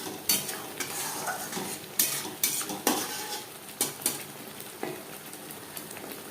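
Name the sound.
stirring and frying chana masala spices in a pan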